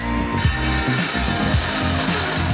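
Rough, rhythmic sawing of a floorboard cutter saw biting through a wooden floorboard during a wetroom shower installation, with repeated strokes close up and loud.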